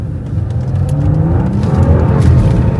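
A custom-tuned 2017 Lincoln MKZ accelerates hard, its engine a loud, rising low roar with a steady rumble, heard from close by and building in intensity.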